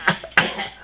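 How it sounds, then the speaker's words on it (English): Two sharp human coughs in quick succession, the second slightly louder, close to the microphone with no speech around them. "You coughed on purpose because you didn't know what verse it was."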